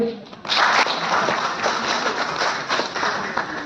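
A crowd at a public meeting breaks into applause that swells after a brief voice, then holds as a steady dense clatter of many hands.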